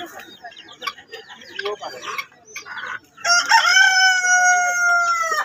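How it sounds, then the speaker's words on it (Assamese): A large rooster crows loudly and close, a single sustained cock-a-doodle-doo following a stretch of clucking and farmyard noise, with a voice faintly underneath. "ডাঙৰ মুৰ্গী আমাৰ জীৱনত দেখা নাই ইমান ডাঙৰ মুৰ্গী"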